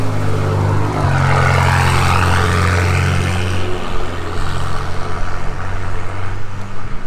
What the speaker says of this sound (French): Écoute le son de cette Portofino.